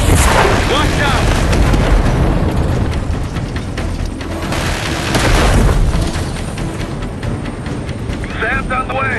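Heavy missile blasts and rumbling explosions in a Call of Duty Black Ops 6 battle, loud booming bursts with crackling debris and sustained roar, mixed with shouted voices and game action.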